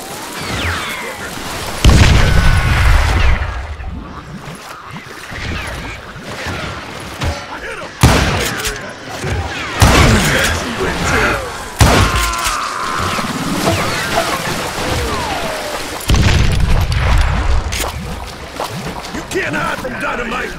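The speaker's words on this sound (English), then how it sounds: "Can't hide from dynamite!" Dynamite blasts in the Western shooter Call of Juarez: Gunslinger, several heavy booming explosions at irregular intervals, loud and close, with rumbling debris between them under game voices.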